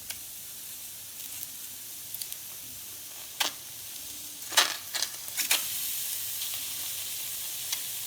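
Chicken pieces sizzling in a hot oil-free AMC cookware pan, a steady soft hiss with a few sharper crackles and pops bunched in the middle, no voices.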